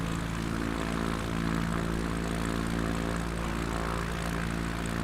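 A small X-Cub propeller plane engine in a flight simulator game drones in a steady, continuous hum with a low buzzing tone, loud and unbroken, with no voices.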